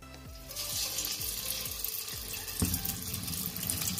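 Banana flower vada frying in hot oil on a high flame, a steady close sizzle with crackling and bubbling throughout and a slight surge partway through, no talking.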